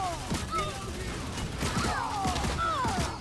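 A grenade launcher fires in the LawBreakers sci-fi shooter, giving several punchy bursts with whooshing, sweeping tones against a steady bed of game effects.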